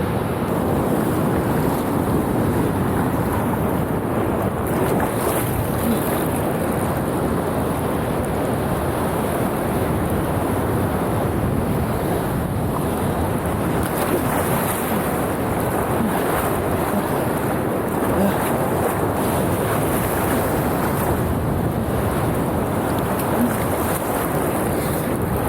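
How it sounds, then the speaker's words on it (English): Pacific Ocean waves break steadily on a Los Angeles beach, a continuous loud wash of surf mixed with wind rumble on the microphone, with no voices. "How big the waves are."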